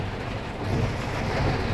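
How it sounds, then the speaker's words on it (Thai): Steady rain pours down with a low rumble of thunder beneath it, a dense continuous wash of noise with no voices. "ฝนตกครับพี่น้อง"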